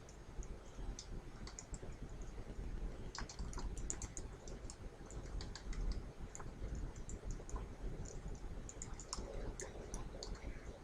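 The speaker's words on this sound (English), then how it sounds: "type in your name" Keys clatter on a computer keyboard as a name is typed into an Excel document field, with light, close, irregular clicks over a faint steady background hum.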